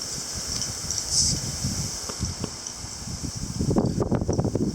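Gusty wind from a September wind storm buffets the microphone outdoors, a constant rushing hiss with irregular louder bursts building toward the end.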